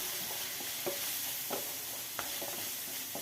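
Tomato and spice masala stirred in a pan with turmeric, chili powder and chicken masala, a steady low sizzle broken by a few distinct spoon scrapes and clacks against the pan.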